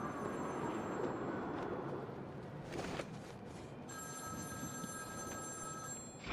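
Telephone ringing in the video game Batman: Arkham City, a steady electronic ring pattern that repeats clearly over a low background.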